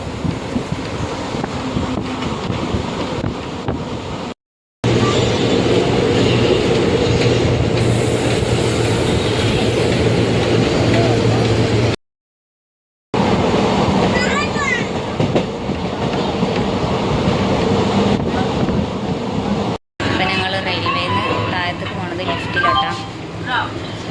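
Steady rumble and rhythmic clatter of a train rolling along the rails, with wind noise throughout and voices talking faintly at times.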